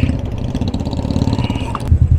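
A motorcycle engine runs steadily at close range during a ride over rough backwater terrain, with a low pulsing drone throughout and a brief higher note near the end.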